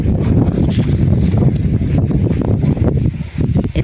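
Wind rushes and buffets across the microphone in an open rice paddy, a loud, continuous broadband roar with small gusty swells and no voices.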